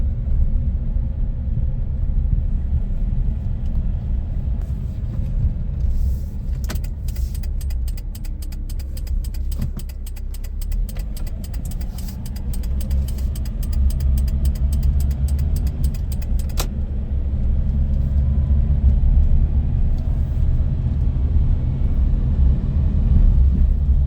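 Steady low rumble inside a Mitsubishi Pajero Mini kei car on the move, a constant droning road and engine hum with faint ticking in the middle, no talking.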